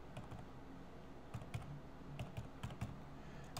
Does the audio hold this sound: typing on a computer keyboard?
yes